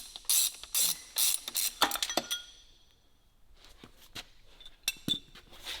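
A ratchet wrench works loose the crank pulley on a 7.0L Hellephant engine, giving quick, close clicking bursts, then a short lull, then a few more scattered ratchet clicks.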